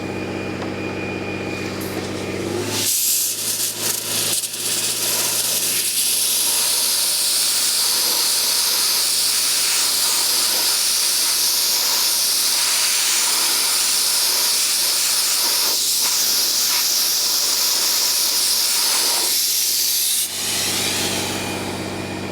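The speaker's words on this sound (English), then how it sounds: "we're going to clean this up with glass beads" Glass bead blasting of brake calipers from a race car, a steady loud broadband hiss that holds for about seventeen seconds, then cuts off, with no talking over it.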